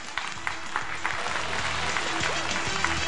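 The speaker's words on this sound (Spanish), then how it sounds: "Otro aplauso para ellos, venga." A theatre audience applauds in a brief, steady burst of clapping, with the crowd's noise rising at moments under faint background voices.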